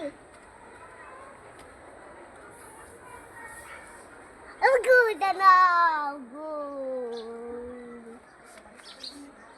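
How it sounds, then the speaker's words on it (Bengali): Pigeons coo softly in the background, with a louder bird call in the middle, while a person talks over it. "দেখেন কত কবুতর কত সুন্দর লাগছে"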